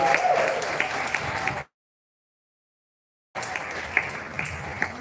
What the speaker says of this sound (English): I want to say a round of applause for Casapreco.